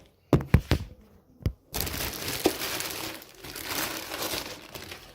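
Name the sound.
unwrapping Thrustmaster T80 pedal set packaging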